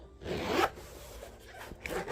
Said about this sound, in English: It has 2 zippers. So you can zip around